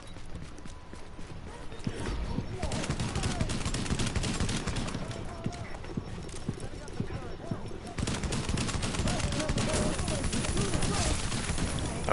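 Gunfire in the video game The Division during a GE Outbreak, rapid bursts of shots running almost nonstop with brief gaps, loud and dense, with voices talking over it.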